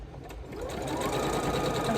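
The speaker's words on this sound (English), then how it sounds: "as I'm sewing this" A sewing machine stitches a quilt block in one continuous, steady mechanical run, close and fairly loud, with no voices.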